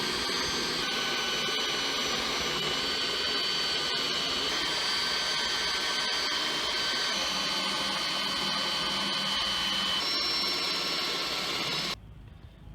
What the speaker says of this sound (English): Now I'm going to be drilling out these rivets with a bigger bit.